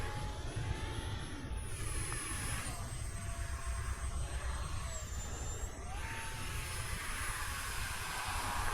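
An RC model jet with an enclosed electric ducted fan runs steadily nearby, a loud continuous whine and rushing roar whose high tone dips and rises as the throttle shifts.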